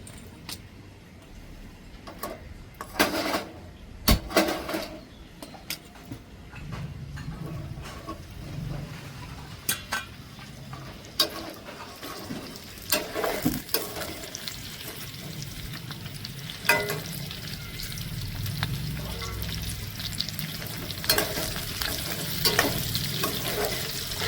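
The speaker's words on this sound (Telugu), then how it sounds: "ఇప్పుడు కడిగి పెట్టుకున్న ఈ కాలీఫ్లవర్ ముక్కలు దీంట్లో వేసుకుందాం ఆయిల్లో" Cauliflower pieces frying in hot oil for a curry, a steady close sizzle with intermittent clinks and stirring scrapes from the pan throughout.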